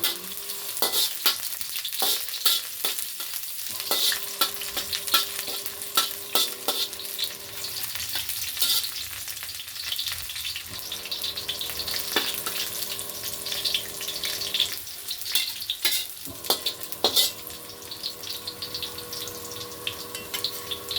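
Garlic sautéing in a pan for pancit bihon guisado: steady oil sizzle and frying crackle with occasional stirring scrapes and clinks, continuous and fairly close, no voices.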